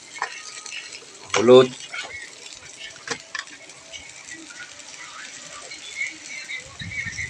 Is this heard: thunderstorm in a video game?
no